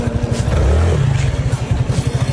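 A motorcycle engine fitted with an aftermarket breather rumbles close and loud in a fast pulsing idle, rising once in a short rev before settling back to a throbbing beat.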